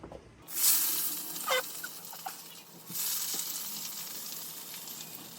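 Hot brown butter is poured into a mixing bowl for chocolate chip cookies and sizzles in bursts, a sharp hiss at first, then a steadier crackle after a short pause, close up with no talking.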